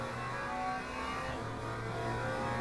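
A McLaren GT3 race car engine in the Le Mans Ultimate racing game at Spa, Belgium: a continuous droning engine note with steady tonal harmonics and slight pitch changes, held at a constant loudness without speech.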